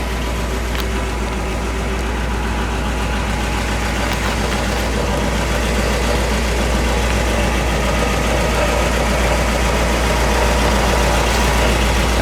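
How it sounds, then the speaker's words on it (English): A 1959 Ford Galaxie 500's engine idles with a steady, low rumble, evenly and smoothly throughout, close by, with no talking. "As this car sits here and runs, and it just idles so beautifully."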